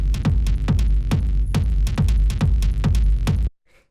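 A dry industrial techno kick group without EQ pounds in a fast, dense groove of heavy booming kicks and gritty percussion, loud and continuous before cutting off abruptly near the end.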